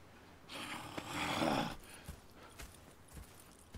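A horse in Red Dead Redemption 2 gives a soft, breathy snort, followed by a few faint hoof thuds on the ground, quiet and close, with no voices.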